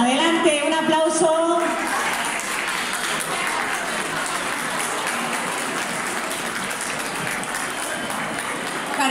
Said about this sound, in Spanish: Adelante, un aplauso.